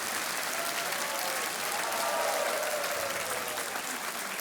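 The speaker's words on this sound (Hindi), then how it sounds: "तालियां बजती रहनी चाहिए देवियों और सज्जनों।" Studio audience applause on a televised quiz show after a contestant wins a cash prize, steady sustained clapping from a large crowd throughout, fairly distant and even in level.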